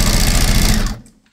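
Sewing machine stitching rapidly under foot-pedal control while piecing an Irish Chain quilt, a loud, dense, steady mechanical chatter that runs for about a second and then cuts off abruptly.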